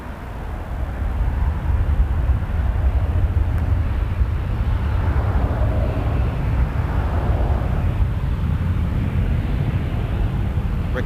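An airliner takes off from runway 05 at Toronto Pearson Airport, a broad steady roar heard from a distance that swells slightly mid-clip and holds for about eleven seconds. No talk over it.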